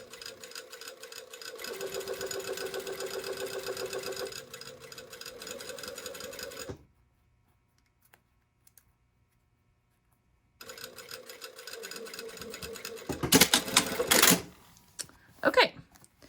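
A sewing machine stitches a continuous lap sleeve placket on a B6702 shirtdress in a steady run of several seconds, falls silent, then starts again, followed by a few sharp clicks and handling noises.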